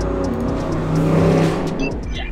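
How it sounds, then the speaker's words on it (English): A Dodge Hellcat swerves past close by, its loud engine roar rising and falling in a quick pass with a hint of tire squeal, all within a couple of seconds. "somebody just swerved in a Hellcat right here, bro"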